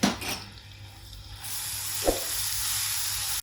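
Ginger garlic paste sizzles and fries steadily in a hot pan, a continuous close hiss with a single brief clink of a utensil midway.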